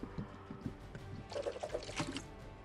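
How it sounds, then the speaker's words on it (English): A syrup-pouring emote in the battle royale game Fortnite: a thin, quiet liquid pour and dribble with soft glugs and drips, fairly faint and intermittent, with game sound effects around it. "With the syrup, and he's gonna pour it on himself?"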